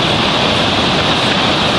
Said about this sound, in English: now you can see the full size of the waterfall